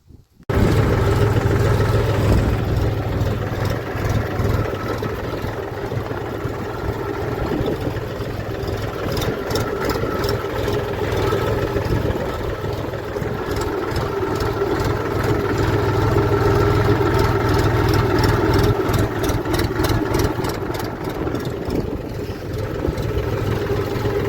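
A tractor engine runs steadily throughout, a loud low rumbling drone with a rhythmic chugging pulse and no voices.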